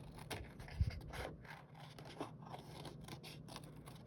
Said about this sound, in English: So I cut in the inside of this here.